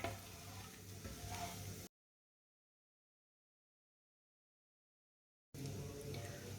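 Whole cumin and coriander seeds roast in a hot pan with a steady sizzling crackle. The sizzle runs for about two seconds, drops out to silence, then returns.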